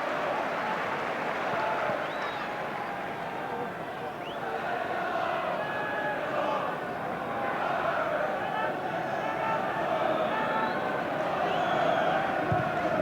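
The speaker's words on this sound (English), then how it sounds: "Another big crowd here at Highbury this afternoon" Big football crowd at Highbury stadium during an Arsenal versus Liverpool league match, a dense continuous roar and murmur of thousands of spectators, with a commentator talking over it.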